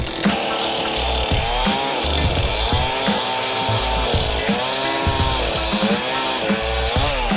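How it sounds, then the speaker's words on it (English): A chainsaw roars steadily while cutting through wood, its engine pitch rising and dipping as the blade bites, loud and close. "All right, who's got the chainsaw now, Jenny?"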